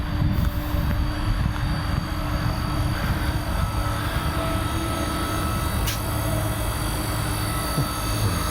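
The cooling fan of a 350 kW Fastned EV fast charger runs with a steady, dense whooshing roar. The close, constant drone never changes throughout.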